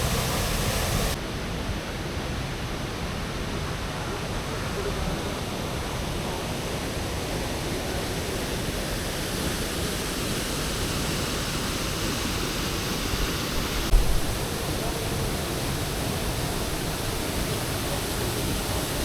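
Bunga Falls in Nagcarlan, Laguna, a constant broadband roar of falling water, loud and unbroken, with no voices.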